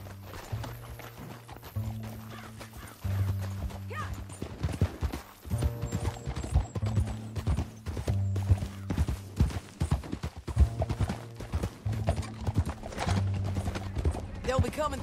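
Horse hooves galloping in Red Dead Redemption 2, a steady rapid clip-clop with occasional whinnies over a low game soundtrack, with a voice speaking at times.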